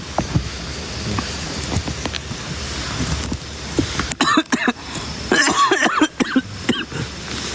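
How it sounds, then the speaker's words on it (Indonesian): A person coughing repeatedly outdoors at night, several short harsh bursts in a row close to the listener, over rain and wind noise. "Aduh, batuk angin ini."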